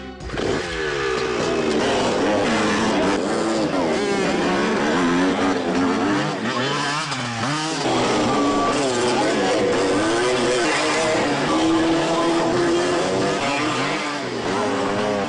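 A loud motorcycle engine revs continuously, its pitch rising and falling as it accelerates, with no pauses, at a biker stunt school.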